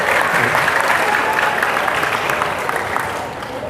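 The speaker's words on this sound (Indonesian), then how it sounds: "woi tepuk tangan buat DKP" An audience applauds the DKP department at a school talk on entrepreneurship, a dense crowd of claps sustained throughout and easing slightly toward the end.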